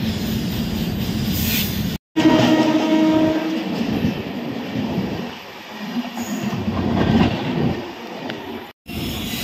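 The Himgiri Express rolls into Asansol Junction with a steady rumble of wheels and a brief horn near the start, heard from inside the coach, with rattling and a couple of abrupt cuts.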